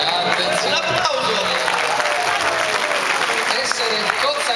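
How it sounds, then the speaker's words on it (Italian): A live-show crowd applauds loudly and continuously in a busy setting, with voices and cheering mixed into the sustained clapping. "Un applauso!"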